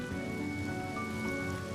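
Steady, soft rain falls in the video game Honkai: Star Rail, a continuous even hiss with faint sustained tones underneath and no voices.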